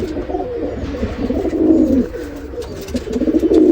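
Pigeons in a pigeon coop where a snake got in, giving a continuous run of close, loud, throaty coos that swell and fade in overlapping phrases, with no talking over them.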